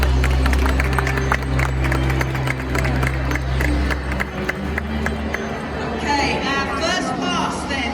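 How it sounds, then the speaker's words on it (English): An audience claps at a Kennel Club dog training test held at Crufts, the scattered clapping mixed with crowd chatter and talk over a low background hum, with voices coming forward toward the end. "Please give him a big round of applause."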